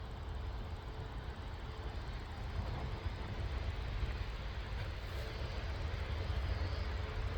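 A Jet2 or Ryanair airliner takes off at Manchester Airport, heard as a steady, broad engine roar that holds at an even level for several seconds with no voices.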